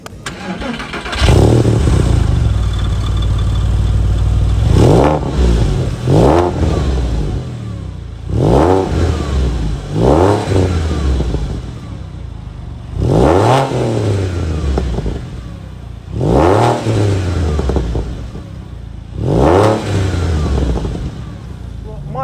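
A 130K-mile Porsche 911 Carrera 2 (996.1) flat-six starts and revs repeatedly during a test drive, loud bursts rising and falling in waves with short pauses between, close and dominant.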